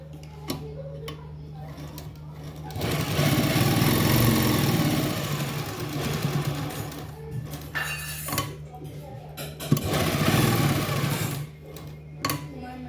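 Sewing machine stitching a sleeve to a garment's shoulder, running in steady bursts with pauses between runs, fairly close, with faint background clatter.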